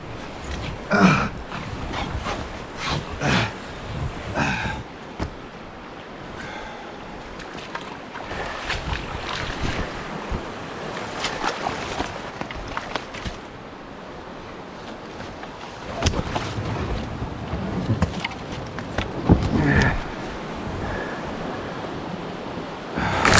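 Rushing water near a waterfall in a wild outdoor setting, a steady rough wash with gusts of wind and bursts of splashing, loud and close throughout.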